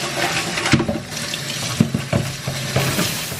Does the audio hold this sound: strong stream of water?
yes